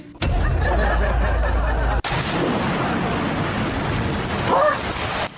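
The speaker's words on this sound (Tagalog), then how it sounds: "Hala, ang lakas ng ulan." Heavy rain pours in a dense, loud, steady hiss that starts abruptly after a brief low rumble, with a faint brief voice near the end.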